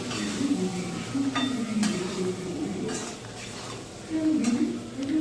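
Green chillies being stirred and fried in a pan with salt and turmeric for a prawn and Malabar spinach dish. Irregular metallic scrapes and clinks of a spatula sit over a soft, faint sizzle. A low voice murmurs in the background.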